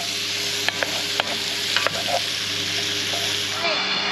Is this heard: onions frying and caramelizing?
yes